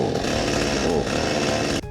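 Cheap chainsaw running steadily after its carburetor was adjusted, a loud, close, continuous engine buzz that does not stall and cuts off abruptly near the end.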